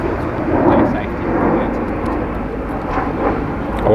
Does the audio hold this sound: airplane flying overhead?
yes